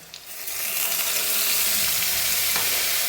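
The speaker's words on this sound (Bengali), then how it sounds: "এটাকে আমি ভালো করে এখন ভেজে নেব" A loud, steady sizzle of onion, chilli, tomato and garlic paste frying in a hot pan builds up after a brief stir and continues without pause.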